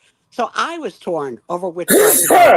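A single sharp sneeze bursts out near the end, loud and close, right after a person's speech.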